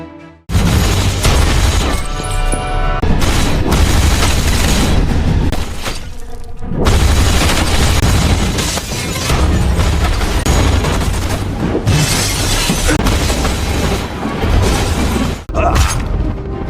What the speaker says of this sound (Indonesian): melakukan tembakan secara membrutal